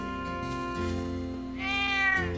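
A cat in a video game meows in drawn-out, tonal cries, the second rising higher and louder, clean and close with no talking.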